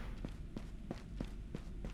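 Heavy stomping footsteps repeat at a steady, quick pace, about seven thuds in two seconds, fairly close over a constant low background hum inside a school setting.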